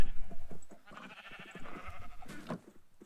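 Sheep in a video game bleat in short, moderately faint calls, several bursts scattered over a few seconds against a quiet background.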